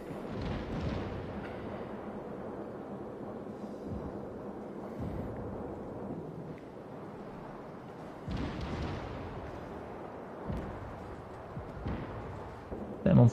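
Naval guns fire in the World of Warships video game, a series of heavy booms and rumbling blasts at intervals, with people talking over them.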